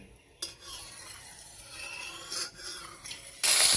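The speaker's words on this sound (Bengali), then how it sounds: "এখন আমরা আমাদের ইলিশ মাছের মাথাটা ভেজে নিব" A hilsa fish head going into hot oil, with rasping scrapes and clinks of a utensil in the pan, then a loud burst of sizzling at the end.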